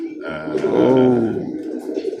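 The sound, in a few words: Birmingham Roller pigeons cooing in loft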